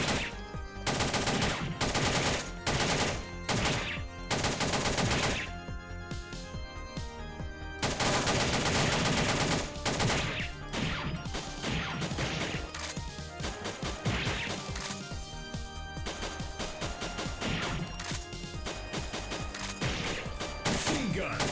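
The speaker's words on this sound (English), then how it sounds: "Machine gun! Machine gun!" Machine-gun fire from a video game, played during a Christmas games stream: rapid, loud bursts of automatic shots, with crashes and heavy impacts throughout and a voice shouting over the gunfire.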